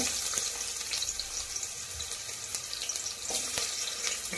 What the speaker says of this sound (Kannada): ಈಗ ಎಣ್ಣೆ ಕಾದಿದೆ ಒಂದು ಈರುಳ್ಳಿ ಕಟ್ ಮಾಡಿ ಹಾಕ್ಕೊಂಡಿದ್ದೀನಿ